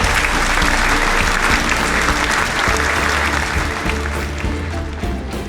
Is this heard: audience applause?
yes